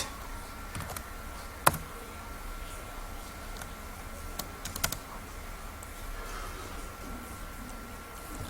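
Typing on a computer keyboard while writing CSS code, a faint, steady patter of soft key clicks with a few sharper taps, quiet and close.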